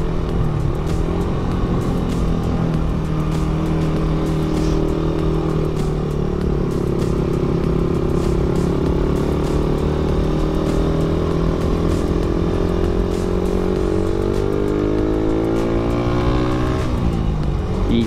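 Steady, continuous engine drone and road roar of a Yamaha Sniper 150 motorcycle cruising on smooth asphalt, loud and close throughout with slight pitch shifts and no talk.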